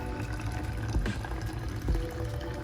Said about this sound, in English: when you're ready to pour in the boiling water, make sure that you pour it towards the middle